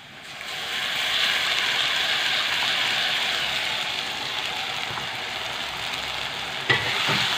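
Onions fry in oil as a ground spice paste is stirred in for a cabbage curry, making a steady close sizzle that swells after a quiet start, ending with a clink of the spoon, no speech.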